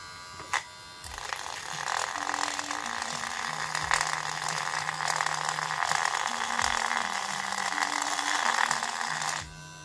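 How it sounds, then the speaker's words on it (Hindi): A 775 DC motor drill spins a homemade sanding roller, giving a steady, buzzy mechanical whine with ratcheting texture for about nine seconds after a brief click at switch-on, then cutting off abruptly. "अब मैंने लगा दिया है हमारे इस सैंडिंग रोलर को मेरी ड्रिल मशीन में अटैच कर लिया।"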